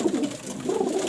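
A pigeon in a breeder's loft coos close by, a low, rolling warble that rises and falls twice within a second, alone without voices.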